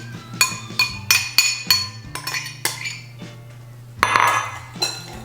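Utensil clinking against a bowl while Mexican street corn salad with tomato, red onion and cilantro is mixed: a series of bright metallic clinks and scrapes in irregular bursts, close and fairly loud, with a brief rustling swirl near the end.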